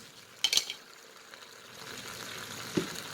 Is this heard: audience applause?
no